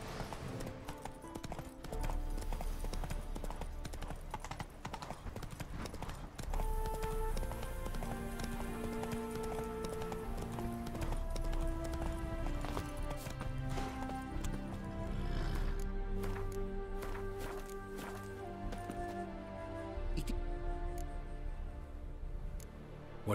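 A horse gallops in The Witcher 3, its hooves clip-clopping in a steady rhythm under layered orchestral game music, with occasional neighs and brief spoken lines mixed in.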